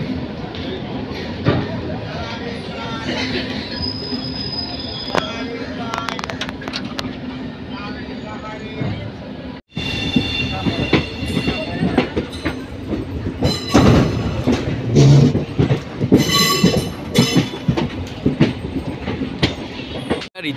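The Sealdah–Ballia Express rolls along the rails with a loud, steady rumble and rhythmic clickety-clack, occasional wheel squeal rising over the din, heard from inside the moving train while voices talk.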